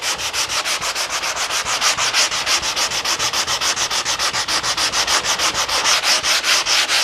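Rapid rhythmic rubbing of a soft sander over body filler, even strokes repeating several times per second, loud and close with no voices.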